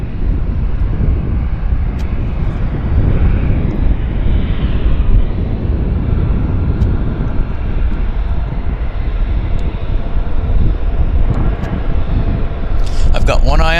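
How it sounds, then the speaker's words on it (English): Heavy airliner taking off at Vancouver Airport, a broad sustained engine roar with wind noise, steady and fairly loud throughout while people talk over it. "Oh, we've got a heavy taking off on the other side."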